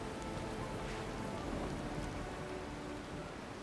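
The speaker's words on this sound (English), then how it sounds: "The vessel plows through the storm." Steady heavy rain in a storm at sea from Pillars of Eternity 2: Deadfire, a dense constant wash of drops with a low rumbling bed and no voices, as a ship plows through the weather.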